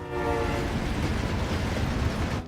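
A train rumbling close by in the Warzone video game, a continuous loud roar of wheels on track with a sustained horn tone sounding through most of it.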